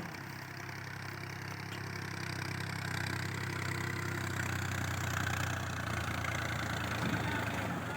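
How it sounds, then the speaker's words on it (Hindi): A New Holland Al Ghazi tractor engine runs at a steady idle, a constant low rumbling drone that stays close and even for the whole stretch, with no voices. "ये अलगाजी ट्रैक्टर है"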